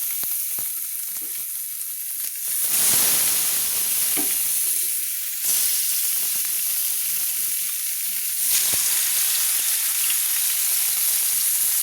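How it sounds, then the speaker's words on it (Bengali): Marinated katla fish pieces fry in hot oil, giving a steady crackling sizzle that surges sharply three times as the frying flares, with no one talking. "মাছগুলো আমি ভেজে নিচ্ছি।"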